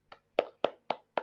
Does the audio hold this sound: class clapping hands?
yes